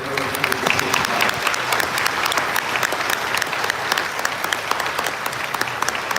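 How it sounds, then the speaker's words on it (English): Warm, sustained applause from a large audience at the Sydney Royal Easter Show's Land Young Woman of the Year and RAS Rural Achiever presentation, dense clapping holding steady throughout. "let's take a moment to applaud the outstanding presentation we've just witnessed from our young women and the Royal Society"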